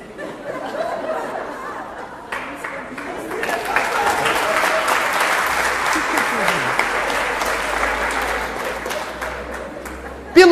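Seminar audience bursts into loud, sustained applause filling the room, with chatter and a few laughs mixed in throughout.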